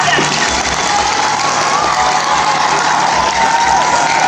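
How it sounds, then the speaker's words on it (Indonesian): Audience applause at the opening ceremony of a junior high school orientation week, a dense steady wash of clapping from a large crowd that holds for several seconds, with a low hum underneath. "Ibu buka sekali lagi dengan tepuk tangan yang meriah"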